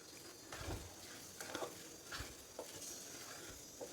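Homemade chhena and grated coconut being stirred into roasted semolina in a pan, soft scraping strokes of a spoon with a faint sizzle underneath, quiet and close.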